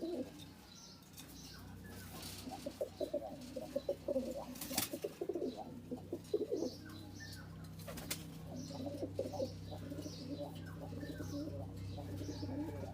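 Indian Kaldom pigeons coo repeatedly at a loft or farm, a low throaty rolling coo recurring in bursts under faint background hum, with a few sharp wing flaps or knocks standing out.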